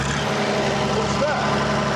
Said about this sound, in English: It's a Leyland engine, and it's a British generator unit as well